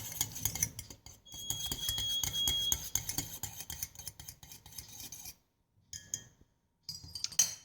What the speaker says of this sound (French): je vais l'ajouter quelques instants à nouveau dans le bain-marie et bien mélanger